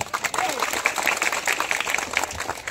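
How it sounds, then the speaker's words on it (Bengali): An audience at a community festival held at a tribal high school bursts into scattered, uneven clapping, fairly close and lively, with voices and crowd noise mixed in. "সবাই একটা হাততালি হোক"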